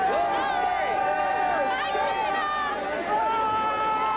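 A sellout stadium crowd at a 1985 San Diego Chargers football game against the Pittsburgh Steelers makes a steady, loud roar and babble throughout, with a broadcaster's voice talking over it.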